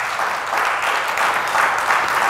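A church congregation claps together during a sermon, a loud, dense and sustained burst of many hands filling the room without pause.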